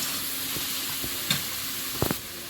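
Ginger and garlic fry in oil with tomatoes just added, giving a steady close sizzle broken by a few soft stirring knocks of a spatula in the pan.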